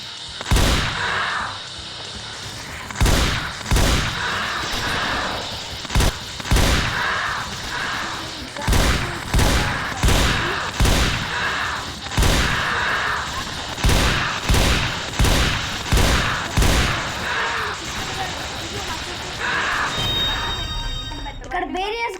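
Shotgun blasts in a Roblox zombie game go off in repeated booming bursts at a steady pace, loud and close, with game sounds and players talking under them.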